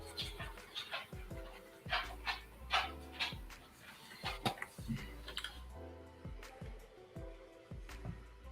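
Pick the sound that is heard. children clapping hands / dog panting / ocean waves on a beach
dog panting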